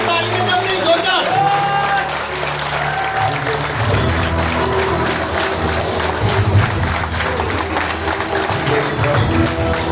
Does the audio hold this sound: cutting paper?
no